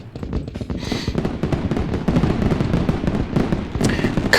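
Fireworks display sound effect on a game-development livestream: a loud, continuous barrage of rapid crackling pops and bursts with a few sharper bangs, heard alone with no talking.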